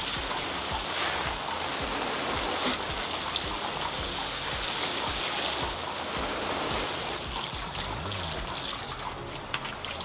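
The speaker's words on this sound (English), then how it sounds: "What I'll do is make sure I give this a really good watering in." Water pours steadily from a hose or can onto soil inside a polytunnel, a continuous close splashing hiss that holds level throughout with no talking.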